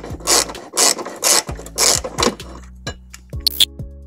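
A ratchet fitted with a 17 mm socket on an extension turns a bolt during a trailer hitch install on a 2006 Subaru Forester, giving several bursts of quick clicking pawl strokes with short gaps, close and fairly loud.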